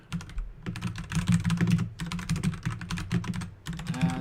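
Rapid typing on a computer keyboard, a close, fairly faint run of clicking keystrokes in irregular bursts with short pauses, no voices.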